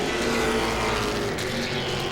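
A late model race car at Langley Speedway rolls into the pits, its engine a steady, close, throaty drone holding level for a couple of seconds with no voices.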